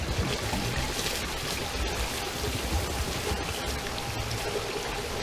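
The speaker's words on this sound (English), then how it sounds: "Water sounds" Steady rain and flowing water in the video game Outriders, a dense continuous wash of patter and rushing close by, with no voices over it.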